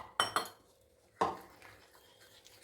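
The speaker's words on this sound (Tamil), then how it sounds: "நல்லா மிக்ஸ் பண்ணிக்கிறேன்." Mushrooms are mixed into sauce in a bowl, with three sharp clinks of a spoon against the bowl followed by softer scraping and stirring sounds.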